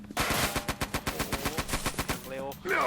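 Rapid automatic gunfire in the horror video game Eternal Evil, a loud, evenly spaced burst of about fifteen shots followed by a short electronic effect.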